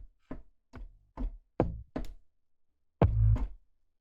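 Six separate punchy layered kick drum hits, each a deep thump with a sharp attack, spaced roughly half a second apart with a short gap before the last two.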